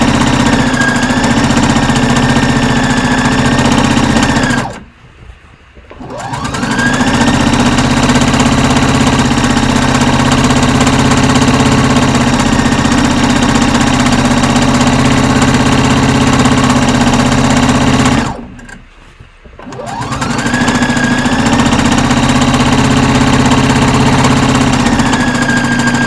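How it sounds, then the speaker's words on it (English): A sewing machine running along a fabric edge, a loud, steady, close motor hum with rapid needle rattle, stopping twice for a second or two before starting up again, no talking. "I'm going to sew on the edge."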